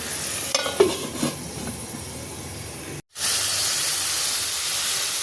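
Prawns sauté in a hot pan, giving a steady close hiss and sizzle with a few clinks and stirring scrapes early on, a brief drop to silence, then a continuous even frying hiss.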